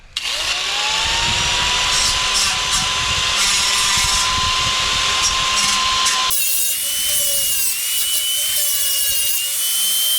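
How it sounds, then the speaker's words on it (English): A power sanding wheel whines and grinds against rough roof wood of a firewood crib in one long continuous pass, loud and close, the pitch dropping slightly partway through. "Gotta grind that off. Sanding wheel."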